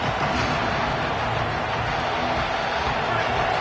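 Stadium crowd at a Texas vs Ohio State college football game roars just after a kickoff, a broad, sustained wall of cheering noise that stays loud and unbroken with no clear individual voices.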